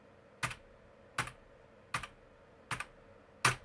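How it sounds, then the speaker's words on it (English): Five evenly spaced taps on a computer keyboard, each a sharp click with a faint bounce, struck in a steady tempo about 0.75 seconds apart and heard alone in a quiet room. "So I'm going to tap that out on the keyboard."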